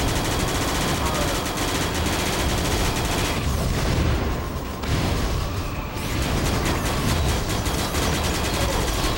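Continuous dense gunfire and battle noise from the video game Battalion Wars 2 in assault mode, a loud unbroken barrage of rattling shots throughout.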